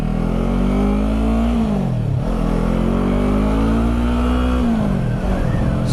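A 2015 Yamaha R3 motorcycle's engine revs loudly and close up, climbing in pitch, dropping briefly between shifts, then climbing again.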